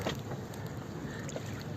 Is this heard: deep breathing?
no